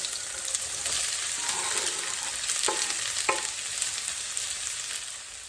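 Chopped onions fry in four spoons of olive oil, a soft continuous sizzle with occasional clinks and scrapes of stirring, fairly quiet and with no talking.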